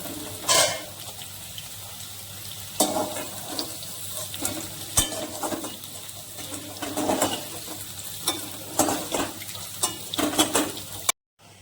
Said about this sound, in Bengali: হালকা করে পনিরটাকে আমি অল্প ভেজে নিয়েছিলাম। এখন এটা তুলে নেব। পনিরটা ভাজা হয়ে গেছে।